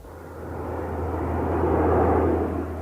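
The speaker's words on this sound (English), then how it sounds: "except for the noise of the delivery aircraft" A military parachute delivery aircraft drones steadily as its engine roar swells and then eases slightly, a broad, continuous rumble with no voices.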